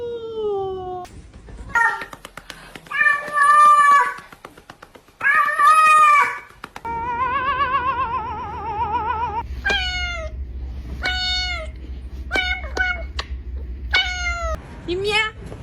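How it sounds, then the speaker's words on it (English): A cat meows repeatedly, with long drawn-out wavering cries and then a run of short, sharp meows at close range, each separated by brief pauses. "You meow."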